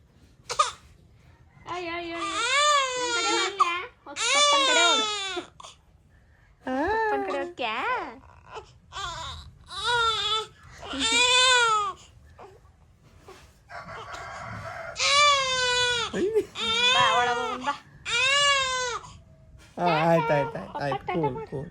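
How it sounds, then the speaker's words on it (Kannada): A baby girl cries in loud, rising and falling wails, coming in repeated bursts separated by short pauses and sobbing breaths, close to the listener. "ಅಳು ಸೌಂಡ್ ಕೇಳಿ ಬರೀ."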